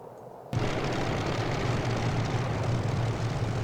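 A P-51D Mustang propeller engine in MSFS 2020 bursts to life after a brief quiet moment, then holds a loud, steady, rumbling drone with a pulsing low throb, with no voices.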